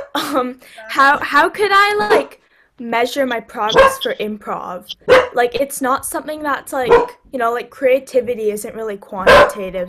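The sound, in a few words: dog barking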